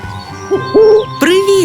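An owl gives a few soft, rounded hoots close by, one after another with short pauses.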